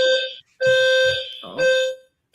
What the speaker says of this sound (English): you got a panic alarm going off over there